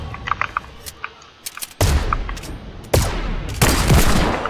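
Rapid bursts of video game gunfire, loud and continuous in dense volleys that intensify over several seconds, with sparse faint sounds at the start before heavy fire breaks out.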